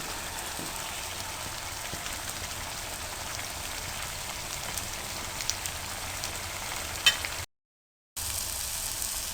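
Mashed, well-softened brinjal is fried quickly over high heat in a pan, giving a soft, steady crackling sizzle that runs throughout with only a short silent gap near the end.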